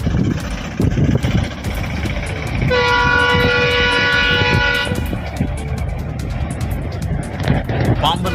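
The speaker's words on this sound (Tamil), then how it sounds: "பாம்பன் புதிய பாலத்தில் 2வது நாளாக 90 கிலோமீட்டர் வேகத்தில் ரயில் இயக்கப்பட்டு சோதனை ஓட்டம் நடைபெற்றது" A train rolls across the new Pamban sea bridge at 90 km/h on a trial run, with a steady loud rumble throughout and a sustained horn blast in the middle.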